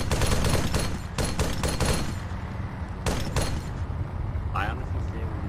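Rapid bursts of gunfire crackle in a military shooter game as a squad fires at a sniper, with clusters of sharp shots in the first two seconds and again near the three-second mark, voices underneath.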